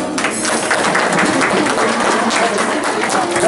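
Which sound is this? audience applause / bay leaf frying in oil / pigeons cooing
audience applause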